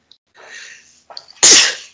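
A single loud, close sneeze bursts out near the end, preceded by soft breathy intakes and faint shuffling during a tabletop game session.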